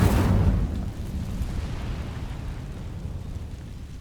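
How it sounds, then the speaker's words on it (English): An Incendio fire spell is cast in Hogwarts Legacy, a loud whooshing burst that roars at the start and then fades into a long, rumbling fiery hiss. "Incendio!"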